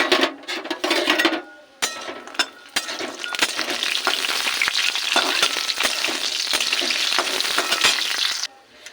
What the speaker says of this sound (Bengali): তেল গরম হয়ে গেছে, বড়ি ভেজে নেব।